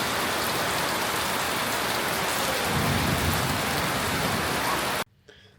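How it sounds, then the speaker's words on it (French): Heavy rain roars steadily and a low thunder rumble swells beneath it midway, then the sound cuts off abruptly near the end. "Et big orage aussi."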